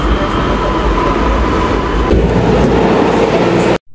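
A metro train in Panama City rumbles loudly and steadily with rail clatter and a faint tonal whine, close by, then cuts off abruptly near the end.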